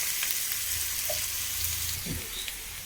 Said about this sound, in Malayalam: ചെറിയ സബോളയും എൻ്റെ കറിവേപ്പില ഇട്ട് കൊടുത്തു അതൊന്ന് മൂത്ത് വന്നോട്ടെ